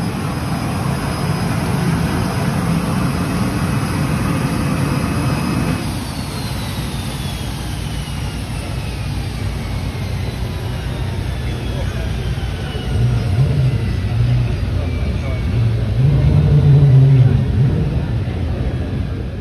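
A Lotus turbine racing car passing on a wet hill course, a continuous high whine and rumble that shifts pitch as it goes by, with a voice talking over the engine.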